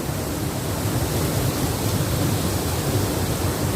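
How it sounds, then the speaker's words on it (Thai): A scenic waterfall roars in a steady, even rush of falling water, loud and close, with no voices over it. "วันนี้พามาชมบรรยากาศน้ำตกสวยๆครับผม"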